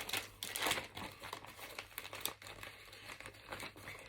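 Plastic bag crinkling and rustling close up, in irregular bursts of crackly handling noise with no voices.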